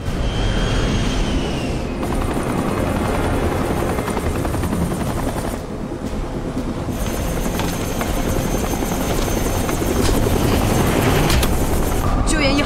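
A rescue helicopter in an action movie scene throbs with a loud, continuous rotor and engine roar, with sharp bursts and a shift in tone partway through, while people speak over it.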